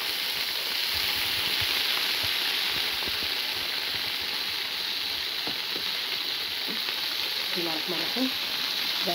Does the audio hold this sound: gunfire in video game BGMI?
no